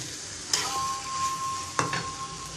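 Chicken meat frying in a pan as it is stirred, a steady close sizzle broken by two sharp clinks of a utensil against the pan, no speech.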